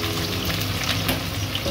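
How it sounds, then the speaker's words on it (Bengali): Onions frying in hot oil for a mutton curry, with a dense, steady sizzle close by and no voices. "তাই পেঁয়াজগুলো দিয়ে দিলাম"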